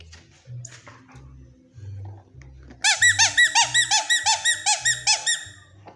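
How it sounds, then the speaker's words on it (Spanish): A dog rapidly squeaks a broken squeaky toy in a quick burst of about a dozen loud, sharp squeaks, following a few low muffled sounds. "Ahora sí chilla, ese juguete está roto."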